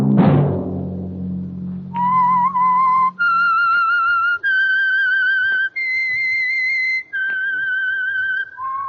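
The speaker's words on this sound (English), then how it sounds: "Let that whistle be your signal for the Signal Oil program" A whistled melody serves as the signal for The Whistler, the Signal Oil radio program: a series of clear, sustained, wavering notes sounds alone, following a brief low rumble at the start.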